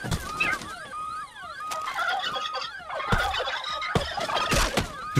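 Turkeys gobble repeatedly in a shooter video game, with rapid warbling calls overlapping each other, punctuated by sharp gunshot-like bangs and a rising and falling siren-like wail.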